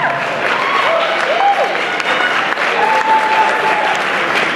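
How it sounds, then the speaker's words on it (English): Loud, sustained applause from a ballroom dance crowd after a Silver Samba semi-final, steady clapping filling the whole stretch with a few whoops and cheers rising above it. "Big applause, very nice of that."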